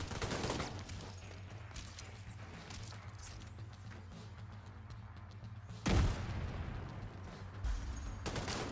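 Gunfire in an Apex Legends match, a steady faint clatter of shots under a constant low game rumble, with one louder burst near the end and no clear talk.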